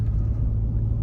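A Ford Expedition Max truck with a 3.5 EcoBoost V6 accelerates gently while towing, giving a steady, loud low engine rumble with no voices.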